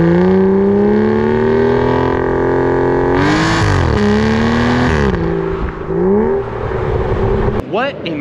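Aston Martin DB9 with a naturally aspirated 5.9-litre V12 revs loudly nearby, the engine note climbing and falling through several blips before cutting off near the end.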